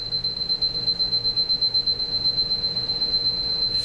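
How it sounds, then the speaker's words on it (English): Seiko Cayuga QXE043BLH wooden mantel alarm clock sounding its alarm: a loud, piercing high beep that pulses in a fast, steady rhythm throughout, with no voices. "Let's hear the alarm."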